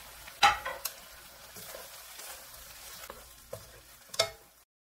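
Fish cake and shishito peppers are stir-fried in a pan, with soft sizzling under a few sharp scrapes and clatters of the utensil stirring the food up close.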